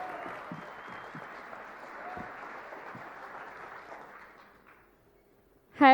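Audience applause greets a startup team as it takes the stage at a founders' pitch competition final, a steady wash of clapping that fades out near the end before a loud burst of sound.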